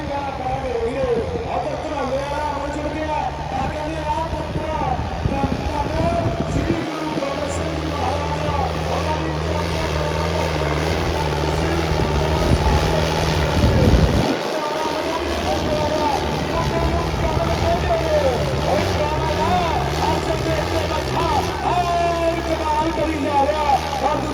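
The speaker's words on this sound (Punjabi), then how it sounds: "ਇਹ ਪਹਿਲੇ ਨੰਬਰ ਦਾ ਟਰੈਕਟਰ ਚੱਲ ਰਿਹਾ" A tractor engine runs at a steady, loud, throbbing drone for the whole stretch, with brief dips in the low rumble, while people talk over it nearby.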